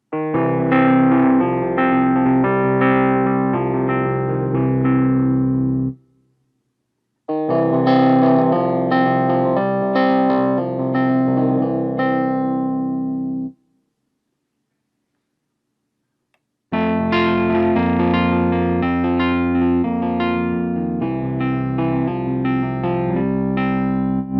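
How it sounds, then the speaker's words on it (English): Reed-type electric piano chords from a Casio PX-5S digital piano played through an amplified, slightly distorted tone, in three loud phrases separated by short silences. "The PX5S also features classic reed electric pianos."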